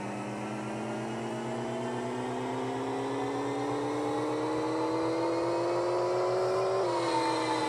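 In Pixel Car Racer, a synthesized 2JZ engine revs on a dyno with one long, rising whine that climbs steadily in pitch over several seconds, then drops abruptly near the end; no talking.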